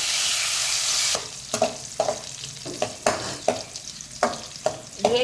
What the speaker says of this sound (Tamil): அதே கடையில் நாம் ட்ரை கிரேப்ஸையும் போட்டு கொஞ்சம் அதே நெய்யில் கொஞ்சம் வறுத்து எடுத்துக்கலாம்